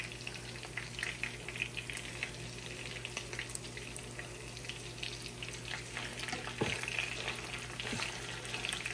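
Galunggong (round scad) fish frying in a pan for a Filipino home dish, a steady close oil sizzle with faint scraping and clinks throughout, under a low constant hum and no talk.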